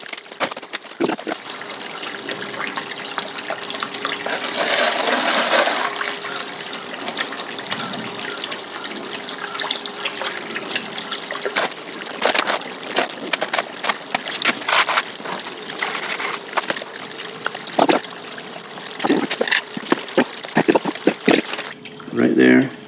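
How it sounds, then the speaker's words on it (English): Water runs steadily through a VDI microsluice carrying fine gold paydirt, a continuous close trickle and splash with intermittent handling noises and someone talking over it. "For the finest material, we're going to use the VDI microsluice, running at a much slower speed."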